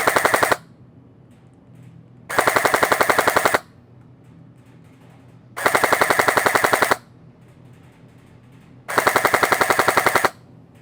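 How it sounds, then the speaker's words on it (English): A STRIBOG AEG airsoft gun fires four full-auto bursts at an outdoor 60-meter target, each roughly a second of fast, even mechanical rattling, separated by quiet pauses. "So full auto at our 60 meter target."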